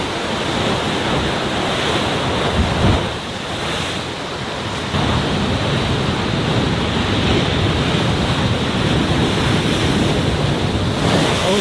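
Heavy ocean surf surges and churns continuously at Thor's Well, a loud broadband roar of crashing waves mixed with gusting wind buffeting the microphone, with a brief dip in intensity before the water swells back up.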